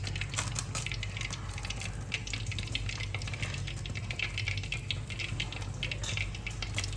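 Oil heating in a kadai before frying jackfruit, a steady quiet sizzle and crackle with a low background hum, no voices.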